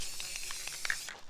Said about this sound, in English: spray a little clear coat on it to soften it up some